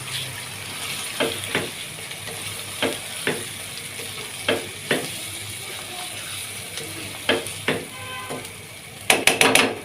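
Yogurt is stirred into a kofta curry in a pan, giving a steady soft sizzle with repeated sharp scraping clicks of a spoon against the pot, a quick cluster of clatters near the end.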